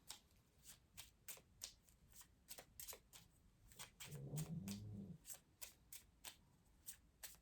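A deck of tarot cards is shuffled in a steady series of crisp riffling flicks, close and quiet, with a brief soft thump of cards being squared midway through.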